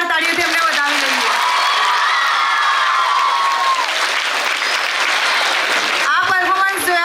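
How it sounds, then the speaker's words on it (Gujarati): An audience at an Independence Day celebration claps loudly and steadily after a performance, with scattered whoops and a voice heard over the sustained applause. "ફરીથી આજના સૈનિક માટે એક જોરદાર તાળીઓથી અમને વધાવી લઈએ."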